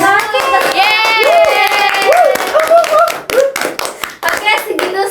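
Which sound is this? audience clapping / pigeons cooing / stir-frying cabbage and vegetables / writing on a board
audience clapping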